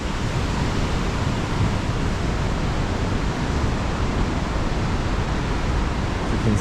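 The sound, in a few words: ocean waves pounding coastal rocks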